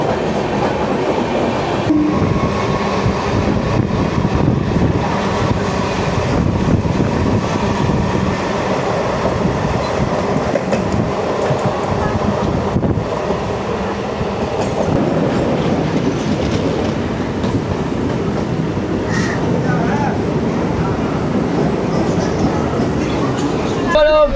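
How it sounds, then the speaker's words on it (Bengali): Continuous rumble and rattle of a local passenger train in motion, heard from inside, with steady rhythmic clatter of wheels and faint voices in the carriage. "লোকাল ট্রেনে করে আমরা এখন চলেছি বিড়াতে"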